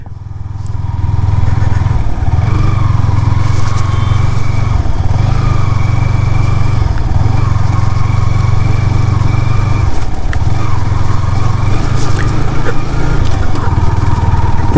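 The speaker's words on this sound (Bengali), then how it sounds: "বাইক রাইডিং করার মজা অন্যরকম" A motorcycle rides through the Austagram haor wetland with a loud, steady engine drone and slight rhythmic pulses in pitch, heard up close for the whole stretch after a brief quiet start.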